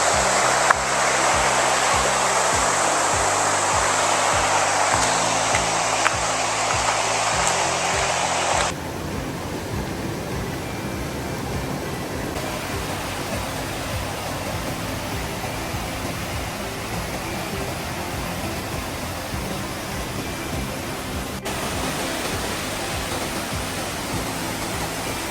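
Water rushing through Vintgar Gorge in Slovenia, a constant broadband roar of fast river flow and falls that shifts to a slightly lower, steadier wash partway through, loud and close with no voices.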